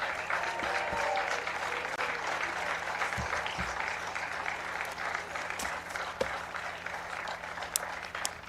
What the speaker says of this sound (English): Let's hear another round of applause for all of our seniors.